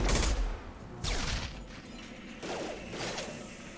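Shotgun fire in the sci-fi shooter Mass Effect 2: three heavy, booming blasts about a second apart, each followed by a ratcheting mechanical clack, loud and close with no talking.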